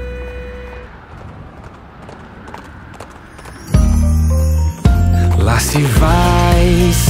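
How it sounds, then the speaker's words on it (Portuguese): Horse hooves clip-clop in a Portuguese children's gospel song about Saul riding his horse while persecuting Christians. Steady hoof clicks sound alone at first, then loud singing and music burst in over them. "Lá se vai Saulo em seu cavalo, perseguindo os cristãos"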